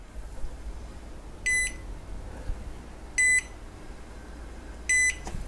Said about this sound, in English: you put it on and it goes beep,